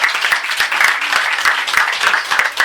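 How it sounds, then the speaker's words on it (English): Audience applause at a mindfulness talk, a dense, continuous wash of many hands clapping at close range, loud and steady throughout with no voices standing out. "A big round of applause"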